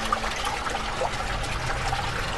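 Fresh spring water trickles steadily in the rock-cut city of Petra, a continuous close watery babble with no voices.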